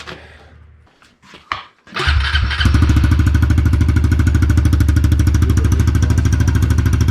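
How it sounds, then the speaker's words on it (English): A Honda CRF110 dirt bike is handled briefly, then its engine fires up at about two seconds and settles into a loud, steady, rapid idle that runs to the end, close by and with no talking. "let's fire it up and see how that sounds"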